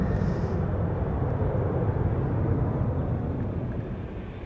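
A TUI airliner bound for Montego Bay roars past on Schiphol's Polderbaan, a broad, heavy rumble of engines holding steady and then slowly easing, loud and distant-open, with no talking.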